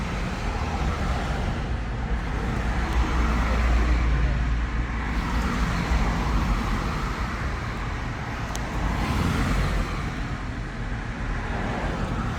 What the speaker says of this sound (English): as soon as this traffic clears